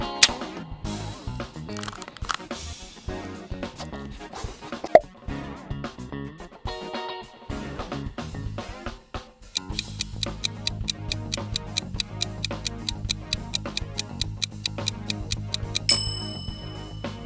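Milky Way candy logo sound, a soft musical jingle of ticking, plucked notes that builds into a denser rhythmic bed with a steady beat and a bright chime near the end.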